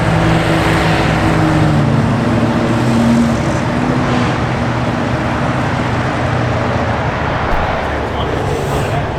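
Sick Week cars drive past on a rainy day, a steady, loud wash of engine and road noise with wet tire hiss and rising engine tones, people talking over it throughout.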